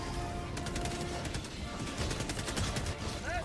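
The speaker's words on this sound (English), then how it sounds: "Dude, Gatling gun." Rapid Gatling gun fire in the video game Helldivers 2, a dense, loud burst of rattling shots throughout, with someone talking over it.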